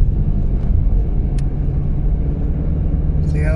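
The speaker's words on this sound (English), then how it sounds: "Let's go for a quick scooch around the block, see if it's any better." A Hyundai Santa Fe drives on the road after a rear wheel bearing replacement, with a steady low rumble of engine and tyre noise from inside the cabin that stays even and fairly loud for a few seconds.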